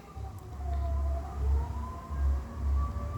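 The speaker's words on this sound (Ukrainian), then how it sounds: "У нас, якщо чуєте, зараз повітряна тривога," A distant air raid siren wails with slowly rising and falling tones over low rumbling background noise.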